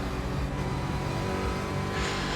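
Engine of a Porsche 718 GT4 in iRacing, a steady close racing drone that shifts pitch as the car drops a gear on cold tyres at Lime Rock Park, with a brief rise near the end.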